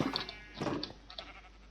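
Minecraft sheep bleat in a Polish gameplay session, giving two or three short nasal cries in quick succession, close and moderately loud over a faint steady game background, with no voices.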